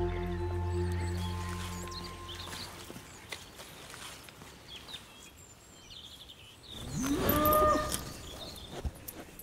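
Hardy cattle on a livestock farm on a Brittany island low in the background, with one long, loud moo near the end among faint hoof and ambient sounds.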